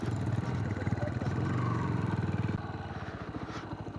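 A motorcycle bumping across a rough, ploughed field, its engine chugging steadily and close, with rattling clatter from the uneven ground throughout.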